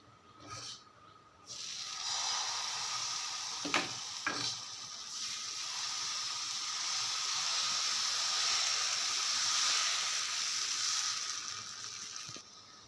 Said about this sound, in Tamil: அடுப்பில் தோசைக்கல் போட்டாச்சு கல் சூடாயிருச்சு இப்போ இதில் நம்ம இதை தோசையாக ஊற்றிக்க வேண்டியதான்